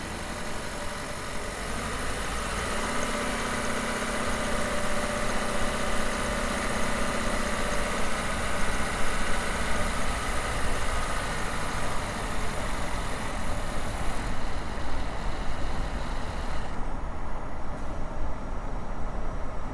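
A Toyota hybrid car's engine running steadily, a continuous mid-pitched hum and idle drone at close range, with no voices, shifting slightly in tone near the end.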